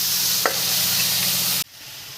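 Vegetables dropped into a hot pan of oil with fried onion and garlic, a loud steady sizzle that cuts off abruptly near the end, with no talking.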